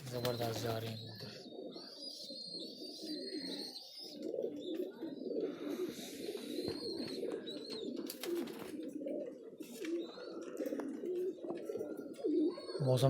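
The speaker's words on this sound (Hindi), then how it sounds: "ज़बरदस्त जा रहे हैं कबूतर।" Pigeons on a rooftop coo and murmur continuously in a dense low chorus, with a few higher chirps and a brief wing-flap burst, while wind noise runs underneath throughout.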